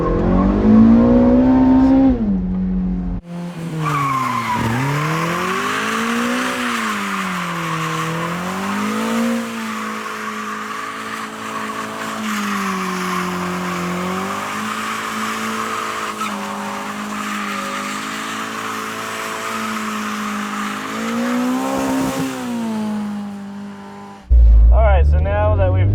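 A mid-engine car circles through sustained drift donuts, its engine droning and rising and falling in pitch with each rotation while the tires squeal continuously; the engine cuts out abruptly near the end.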